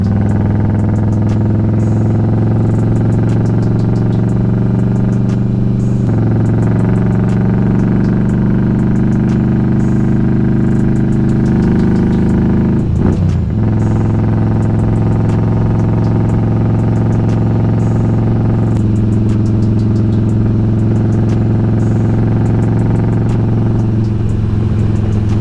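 Harley-Davidson motorcycle climbing a mountain highway, Highway 190 near Pine Mountain, heard from the rider's seat; a steady, loud, low engine drone with brief shifts in pitch as the throttle changes, continuous throughout.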